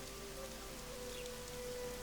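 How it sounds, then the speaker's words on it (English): Steady rain patters on surfaces in The Witcher 2: Assassins of Kings, a soft, even wash of drops with no pauses and no voices. "It's raining as well"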